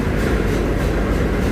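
Medha AC local EMU train running between Borivali and Virar, a steady, loud rumbling roar with faint rhythmic clatter throughout, heard from inside the carriage.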